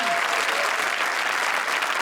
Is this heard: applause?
yes